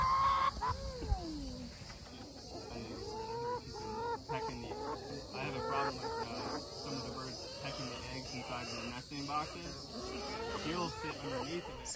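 Chickens clucking and cackling close by, a busy run of varied calls over a steady high insect-like hum, with a person talking in the background.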